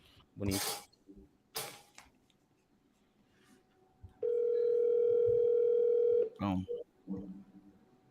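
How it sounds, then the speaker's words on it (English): An outgoing phone call gives a single steady electronic ring tone of about two seconds before reaching voicemail, with short bursts of speech and background noise before and after it. "It does one ring, it goes to voicemail"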